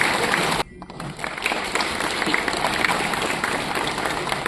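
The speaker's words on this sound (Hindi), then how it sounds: "इनके लिए जोरदार तालियां" Applause from the audience at a women farmers' conference in a Srinagar hall, a dense, steady wash of clapping that briefly dips early on and then carries on evenly throughout.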